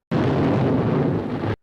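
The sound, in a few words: explosion sound effect, Chernobyl nuclear power plant blast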